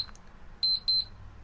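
A game timer alarm goes off during a Minecraft session: two short, loud, high-pitched electronic beeps in quick succession over faint background hiss, with no talking.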